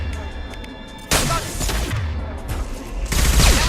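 Shotgun blasts in the video game Mass Effect 2, a loud burst of gunfire cutting in abruptly, then a second heavy volley near the end, mixed with game combat noise.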